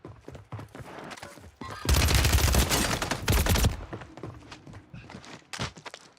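Gunfire in a multiplayer shooting video game with several snipers on the opposing team, a dense loud burst of shots in the middle over scattered softer clicks and footstep-like taps before and after.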